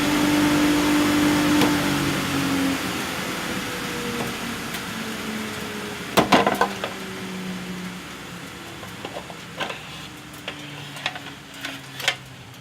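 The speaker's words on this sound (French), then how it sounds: "je branche l'aspirateur directement sur une prise de courant" A chip-extraction turbine vacuum plugged straight into a mains socket runs with a steady broadband roar, loudest at first and then settling. Scattered clicks and knocks sound over it in a workshop.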